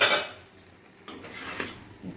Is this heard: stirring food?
yes